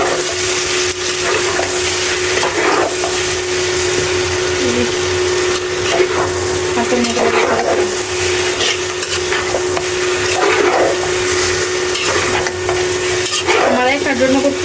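Duck meat stir-fries with browned onions in a pan, with no water added, giving a steady close sizzle and repeated scraping of stirring throughout.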